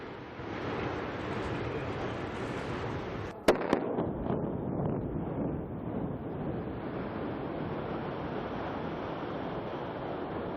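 A 26-storey building in China comes down in a demolition using 1.4 tonnes of explosives: loud continuous roaring rumble, broken by a sharp blast crack and a second smaller crack midway, then steady heavy noise of the collapse.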